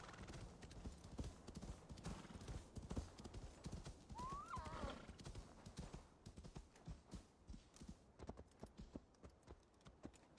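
Hooves clip-clop in a steady rapid rhythm as a horse is ridden in Assassin's Creed Valhalla, with a brief whinny partway through and a soft background bed.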